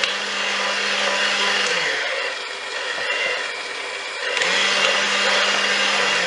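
An electric mixer whisking cream toward stiff peaks for a marshmallow custard pie, a loud steady whir that dips in pitch and level for a couple of seconds in the middle before resuming at full speed.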